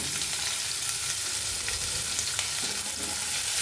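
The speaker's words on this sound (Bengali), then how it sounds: "আর সেই কড়াইয়ে আমি রসুন কেটে রেখেছিলাম ছোটো ছোটো করে, কুচি কুচি করে, সেই রসুনগুলো একটু ভেজে নিচ্ছি।" Finely chopped garlic fries in a kadai, a steady close sizzle with occasional crackles and stirring, continuous and loud with no voices.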